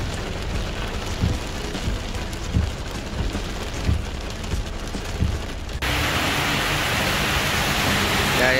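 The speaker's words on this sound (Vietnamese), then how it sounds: "Trời mưa lớn lắm nha anh em." Heavy rain falls steadily around a Kubota DC-60 combine harvester being loaded onto a vehicle. The broadband hiss continues throughout and grows louder and denser in the last few seconds.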